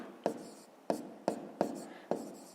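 Handwriting on paper while working a fifth-grade math exercise with decimals, heard as five evenly spaced sharp pen taps with short scratchy strokes after each, close and quiet.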